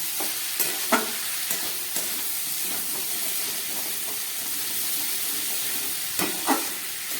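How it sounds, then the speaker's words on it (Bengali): Spice paste with chili powder stir-fries in a pan while cooking kudri with prawns, a steady sizzle broken by a few sharp scrapes of a spatula, close and continuous with no voices. "মশলাটা আমার খুব ভালো করে কষানো হয়ে গেছে।"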